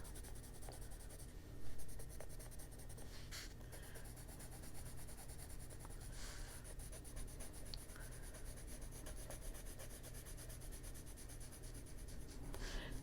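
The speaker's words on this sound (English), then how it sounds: "I put a little more pressure on the pencil, but down in here, it's really light" Gray colored pencil shading on paper around the edges of a baby crocodile drawing, a continuous soft, close scratchy rubbing with steady back-and-forth strokes and a few slightly louder scrapes, no talking.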